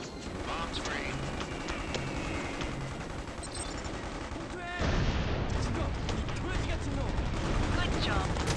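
Bombs burst in the video game Mercenaries: Playground of Destruction, a dense barrage of loud explosive blasts and rumbling that grows heavier midway, continuing densely to the end with no voices.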